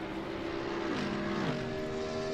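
Mercedes and BMW GT3 race car engines in a racing video game at Circuit de la Sarthe, a steady droning engine tone with pitch sweeps downward midway, continuous and moderately loud with no talk.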